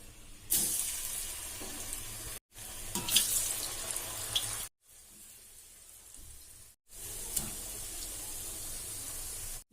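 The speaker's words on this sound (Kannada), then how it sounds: "ಎಣ್ಣೆ ಕಾದದ ಈ ಚಕ್ಲಿ ಹಾಕೋಣ" Chakli dropped into hot oil sizzles and hisses in bursts, the frying noise starting and stopping between quiet cuts, moderately near with no one talking.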